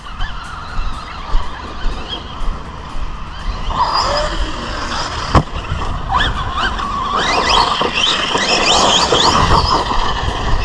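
A Team Associated Rival MT10 v2 RC monster truck drives and jumps outdoors, its electric motor whining in rising and falling bursts, with a sharp knock midway and a gritty roll of tyres.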